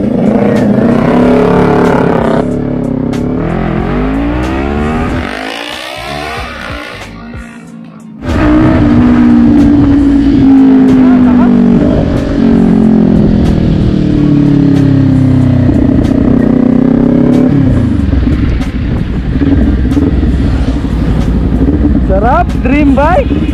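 A Kawasaki Ninja 400 motorcycle on a test ride revs through rising and falling engine sweeps as it accelerates, with heavy wind rumble over the microphone.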